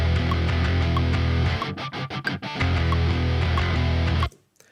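Bass guitar split into a clean low-end layer and a distorted high-end layer, playing a dense, loud line with a brief choppy stop-start section before ending abruptly.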